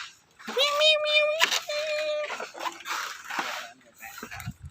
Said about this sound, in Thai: บ้านแมวนะครับเต็มเลย